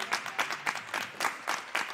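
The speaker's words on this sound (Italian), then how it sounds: "Emanuela, Emanuela che mi sta per raggiungere qui sul palco con l'applauso del Garilli Sound Project." Brief bursts of clapping from an audience, uneven and moderately loud, rising and falling in quick waves.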